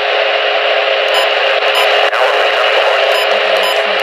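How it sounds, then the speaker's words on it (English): A loud, steady NOAA weather radio emergency alert warning tone blares continuously, harsh and piercing, with faint static blips over it and no voices. "This is a test of the emergency alert system and NOAA weather radio's warning alarm"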